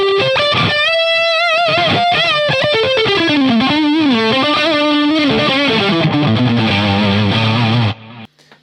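An electric guitar with a stacked humbucker in the neck pickup plays through heavy distortion, a loud, sustained lead line with bends and chords that rings steadily, then cuts off abruptly at the end.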